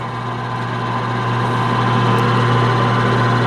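A lathe hums through its low-speed run-in with the coolant pump and drive switched on, a steady loud mechanical drone with constant low tonal whine and no speech.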